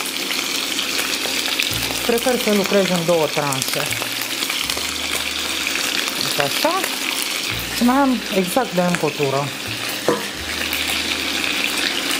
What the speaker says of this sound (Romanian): Pot pune primele bucăți. Vreau să sfârâie, să mi se rumenească